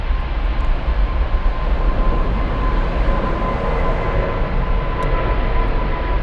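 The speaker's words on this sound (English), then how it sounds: "We have Emirates rolling." An Emirates Boeing 777-300ER rolls for takeoff at Frankfurt on a June afternoon, a steady broadband roar of jet engines with a faint tonal whine, sustained and moderately distant throughout.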